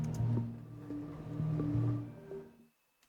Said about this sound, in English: you may get some like granular sounds like this.